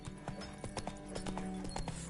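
Horse hooves clip-clop at a steady trot in The Witcher 3 video game, a regular series of soft, moderately distant hoofbeats with faint background game ambience.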